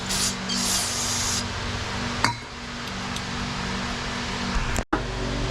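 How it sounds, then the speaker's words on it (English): Carb cleaner sprayed from an aerosol can onto a car's brake line during a disc brake upgrade on a Saleen, heard as steady hissing bursts with a few metallic clinks in between. "Spray it with some carb cleaner on both sides"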